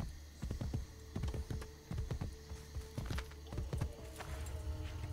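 Rhythmic clip-clop of horse hooves galloping in quick bursts in the video game Assassin's Creed Brotherhood, steady and fairly close, with a faint background hum.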